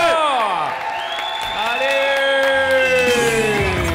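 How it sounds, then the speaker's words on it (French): An audience at a dance battle cheers for the dancers, with loud whoops and rising and falling shouts over a wash of clapping and crowd noise, close and lively. "On les applaudit tous bien fort."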